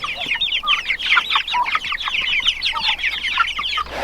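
Chickens cluck continuously on a farm pasture while feeding on grass and bugs, a dense overlapping flock chatter close by and steady throughout with no talk.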